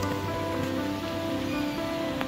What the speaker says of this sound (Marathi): त्या पद्धतीने पाऊस पडतो